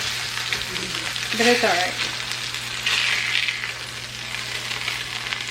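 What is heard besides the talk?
scraping seared bits in a sizzling pan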